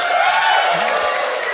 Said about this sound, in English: Thank you for all the applause.